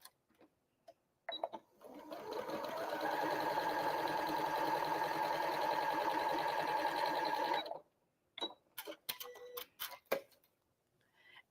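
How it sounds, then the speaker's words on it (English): A sewing machine runs in one continuous burst of rapid stitching along a line on a quilt, lasting about six seconds, followed by a few sharp clicks and taps. "I'm going to go ahead and sew directly on that line"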